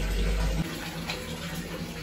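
Tap water runs steadily into a bucket in a bathroom, a continuous gushing fill that starts with a brief louder rush and then settles into an even pour, with no talking.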